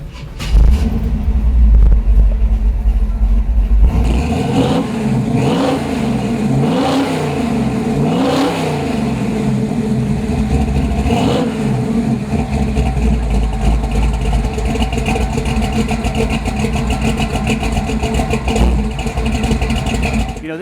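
A 1967 Chevrolet Camaro RS/SS pro touring car fires up, its engine rumbling loudly up close and then revving in several rising, falling sweeps before settling into a steady, throaty idle.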